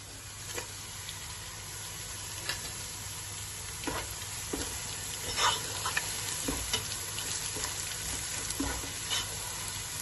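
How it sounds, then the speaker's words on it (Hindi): Rice and peas with spices being stirred in a pan for mattar pulao, faint steady sizzling broken by soft intermittent scrapes and clinks of the spoon, with no voices. "इनको अच्छी तरह हिला लें।"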